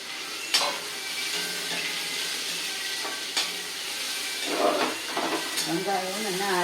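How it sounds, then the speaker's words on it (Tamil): Onions tipped into hot oil with urad dal sizzle steadily in a pan for a bell pepper curry, a close continuous frying hiss with occasional stirring scrapes, and faint speech near the end. "இப்போ உளுத்தம்பருப்பு நல்லா புரிஞ்சுட்டு அப்போ வெங்காயத்தை கொட்டுறேன்."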